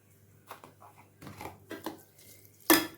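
Cooked rice being mixed into warm curd in a pot, with scattered scraping and clinking of a spoon against the metal pot in short bursts and a sharp final clank.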